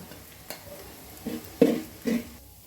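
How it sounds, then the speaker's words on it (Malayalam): Chilli and coriander powder roast in a pan for a beef curry, stirred in a few short scraping bursts over a faint sizzle, close and moderately quiet with no talk. "ഇനി പൊടിയൊക്കെ ഒന്ന് നല്ലതുപോലെ ഒന്ന് മൂത്ത് വരട്ടെ കേട്ടോ"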